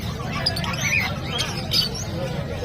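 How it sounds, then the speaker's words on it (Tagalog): Many caged birds at a market stall in Bocaue squawk and chirp in scattered bright calls over a low bed of crowd babble and nearby voices. "Ang daming ibon ni Boss Marvin."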